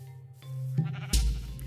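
Sheep bleating in the Minecraft modpack Hexxit, a couple of close, loud bleats over faint background game ambience.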